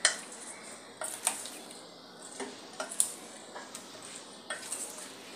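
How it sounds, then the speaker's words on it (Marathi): Cauliflower florets are tossed and coated in a thick slurry in a bowl for flower Manchurian, with intermittent spoon clinks and scrapes against the bowl and soft wet mixing between them. "आता आपण यामध्ये हा फ्लावर घालून घेऊया आणि आपल्याला हे सर्व मिक्स होईल असे आपल्याला कोटिंग करून घ्यायचे आहे"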